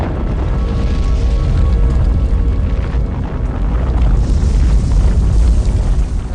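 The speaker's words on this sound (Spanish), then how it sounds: "De repente, una inmensa explosión lo parte en dos." An immense explosion splitting a ship in two comes through as a loud, sustained, roaring rumble with no clear single blast, heavy in the low end throughout.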